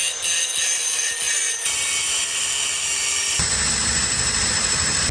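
A power tool drills and cuts notches in steel tube for a Miata roll bar, making a loud continuous grinding whine. Its tone and intensity shift abruptly twice as the cut changes, and no one speaks.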